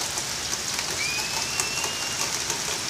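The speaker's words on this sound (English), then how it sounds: "it's raining pretty hard" Heavy rain pours outside a new apartment, a steady dense hiss of drops striking surfaces with scattered sharper patters, close and continuous throughout.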